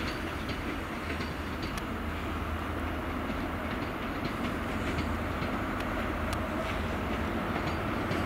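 A steady rumbling roar of a passenger train running along the rails at Cardiff Central, continuous and fairly loud, with faint rhythmic clicks from the track throughout.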